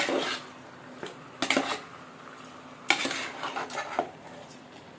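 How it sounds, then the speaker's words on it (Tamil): Ginger garlic paste being stirred in a cooking pan for a village-style chicken gravy: a series of metallic spoon clanks and scrapes against the pan in irregular bursts, close and fairly clear, with no talking. "போட்டு நல்லா கிளறி கொடுத்துடணும்"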